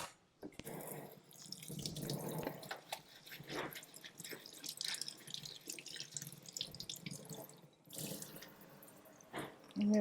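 Tap water runs and splashes in a kitchen sink while whole tomatoes are rinsed under it, an irregular close-up gush with drips, handling noises and short interruptions in the flow.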